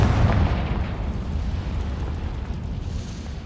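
A Confringo blasting spell explodes in Hogwarts Legacy, a loud, deep boom at the start that rolls into a long rumbling decay and settles into a steady low roar.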